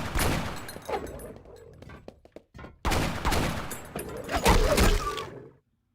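Game character animations fire guns in rapid, dense volleys of loud cracking shots, with a short lull midway before a second heavy burst that ends abruptly.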